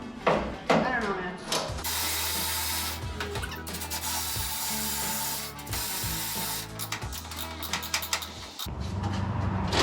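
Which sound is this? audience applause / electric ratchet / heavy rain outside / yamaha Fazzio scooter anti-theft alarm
electric ratchet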